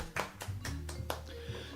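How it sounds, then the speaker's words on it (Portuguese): A handful of separate hand claps in a studio on a talk programme about hate speech and free opinion, sparse and fairly soft over a low background hum. "Palmas para você."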